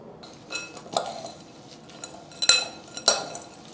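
Granola ingredients being stirred with cinnamon in a bowl, giving soft scraping with a few sharp clinks of utensil on the dish, two standing out near the end, without speech.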